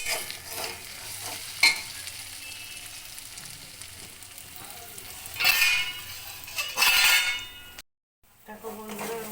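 Paneer masala frying in a pan as it is stirred, a steady sizzle broken by metal spoon scrapes and clinks against the pan, louder bursts of stirring, and a brief silent gap near the end.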